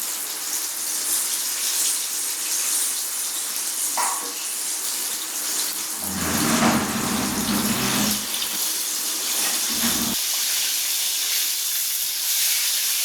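Pieces of popcorn chicken deep-frying in hot oil, sizzling and crackling with a constant bright hiss close by, with a brief louder bubbling surge in the middle.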